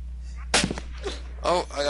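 Two sharp, loud gunshot bursts from the video game DayZ Standalone crack out about a second apart over a low steady hum, with brief voice-like sounds in between.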